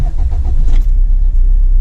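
A Royal Enfield Interceptor 650 motorcycle engine starts up close by, a loud low rumble with a brief catch near the start that settles into a steady idle, with no voices.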